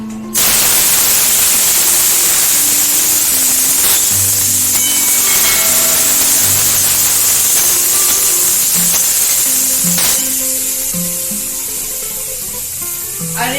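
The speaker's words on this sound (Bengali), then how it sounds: "আর একটুখানি মাশরুমটা ভেজে নেবো, হালকা করে ফ্রাই করে নেবো।" Mushrooms fry in a mix of mustard oil and refined oil, producing a loud, continuous sizzling hiss that holds steady throughout and eases slightly near the end.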